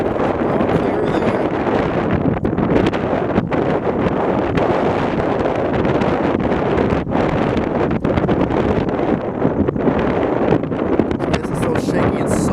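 Strong, constant wind roars and buffets the microphone during a tornado chase in central Illinois, loud and unbroken throughout, with a voice faintly audible beneath the gusts.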